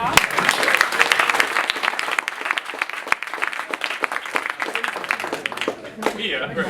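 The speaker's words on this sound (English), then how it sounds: "I want a very true round of applause." A lively crowd at a West Coast swing dance event bursts into loud, close applause with crisp, dense clapping for several seconds, mixed with cheering voices and some talk before it fades near the end.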